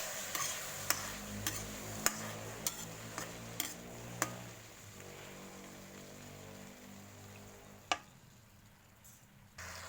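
A spatula stirs pumpkin pieces in a pan on medium heat, giving quiet scraping and a handful of sharp metallic taps over a soft steady sizzle, fairly faint and with no talking.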